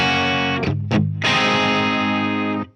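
Electric guitar through a Marshall JCM800 2203 amp with the gain rolled down, giving a bright, mildly crunchy tone: two short choppy strums, then a loud sustained chord ringing out before it cuts off.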